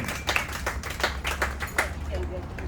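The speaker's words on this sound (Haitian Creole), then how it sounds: "Vous applaudissez ça, non pas? Applaudissez ça." Scattered clapping from a small audience at a slam poetry event, a loose rhythm of claps over low murmuring and a voice, fairly close and moderate in level, thinning out toward the end.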